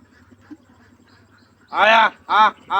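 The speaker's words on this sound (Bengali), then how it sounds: "উনিও হাঁসকে ডাকছে এবং হাঁসগুলি বুঝতে পারে তার মালিক তাকে ডাকছে" A farmer calls out to his ducks with three loud, drawn-out cries after a quiet stretch of faint background sounds, in a Bengal village.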